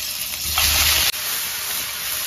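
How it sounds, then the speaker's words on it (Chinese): Chicken wings, scored and blanched beforehand, hit hot oil in a wok with a loud, close, steady sizzle that swells for a moment and then settles into an even hiss, with no voices. "油热加入鸡翅"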